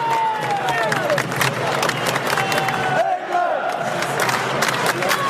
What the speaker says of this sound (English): And on the 26th minute, the City ground applauds.